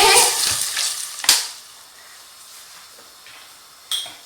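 Water splashed into hot oil in a cooking pan for a pumpkin soup, giving a loud hissing sizzle up front that fades into a steady, softer frying crackle, with a second sharp hiss near the end.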